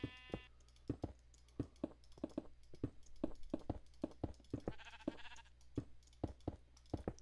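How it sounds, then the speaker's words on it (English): Sheep bleating in Minecraft, a few short nasal bleats rising above a regular pattern of quick taps and clicks over a low steady hum, all fairly quiet. "I hear the sheep."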